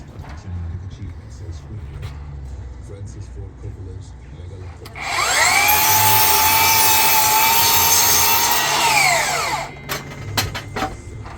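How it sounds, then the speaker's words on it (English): A power saw cuts notches into wood for a window build, one steady loud run of about five seconds that spins up and winds down, with workshop noise and a voice talking before and after. "all we've got to do now is cut that bit off, that side and then that side and that side, and that gives us our notches in"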